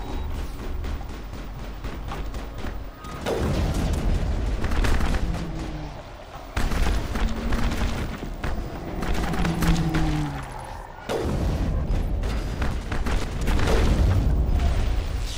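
Gunfire and explosions from the video game Mass Effect: continuous dense volleys of shots and heavy booms, with brief lulls and renewed bursts over about fifteen seconds, loud and unbroken by talk.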